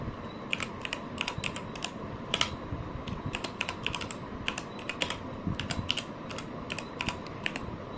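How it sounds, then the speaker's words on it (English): Steady typing on a computer keyboard while setting up a batch file for an AMD GPU driver on a ROG Ally handheld, a quick run of light keystrokes with brief pauses, close and moderately quiet, with no talking. "type Group Policy Editor"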